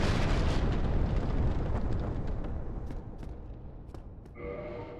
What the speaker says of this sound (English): God, these explosions.